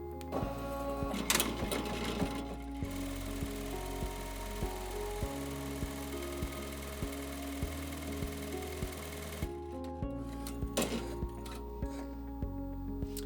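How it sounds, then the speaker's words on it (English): A ZSK embroidery machine stitches an in-the-hoop mask design, its steady rapid needle chatter running close and loud with short pauses and restarts, with no voices over it. "I'm going to press the ZSK button so that we are on the start and stop side, and go ahead and hit the start button again."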